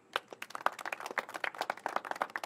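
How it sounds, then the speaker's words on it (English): An audience applauds a police chief at a public safety announcement with a moderate round of fast, dense clapping that sounds somewhat distant and steady throughout. "Let's give her a round of applause."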